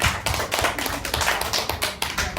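Classroom of students clapping together for everyone after a group discussion, a steady burst of dense, fairly loud close applause lasting throughout.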